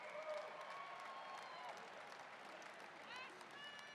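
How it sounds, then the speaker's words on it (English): Applause from the crowd for both fighters in the cage after three rounds of a professional mixed martial arts bout, a steady broadband clatter that goes on for the whole stretch with some crowd noise and faint voices mixed in. "Ladies and gentlemen, a round of applause, please,"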